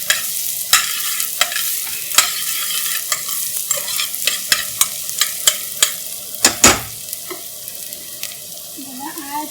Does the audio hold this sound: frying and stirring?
yes